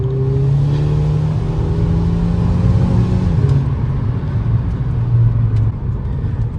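A lowered VW GLI on coilovers accelerates, then downshifts to third gear: a loud engine drone climbs in pitch before a shift drop, heard from inside over rumbling road noise.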